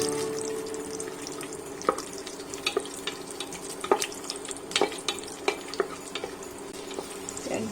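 Raisins fry in hot oil in a pan for egg biryani, a steady soft sizzle broken by scattered sharp clinks and scrapes of a spoon against the pan.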